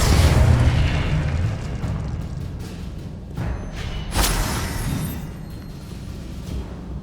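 Spell explosions and magical blasts from Hogwarts Legacy on PS5, a run of deep booming bursts with a loud rumbling onset, a sharp crack near four seconds and a rolling low tail throughout.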